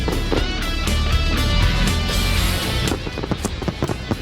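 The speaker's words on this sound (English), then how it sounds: "you better believe the ThorSport team is enjoying the fireworks tonight" Fireworks burst over the Eldora dirt track after a NASCAR Camping World Truck Series win, a dense wash of noise with sharp, scattered cracks and pops growing more distinct toward the end.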